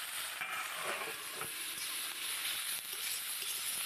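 Green chillies sizzling in a pan just after water is added, a dense, steady hissing sizzle with faint clicks, quiet and continuous throughout.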